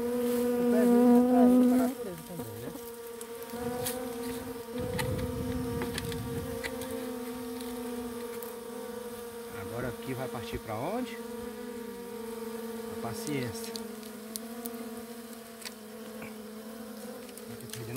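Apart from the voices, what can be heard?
honeybees buzzing during honey harvest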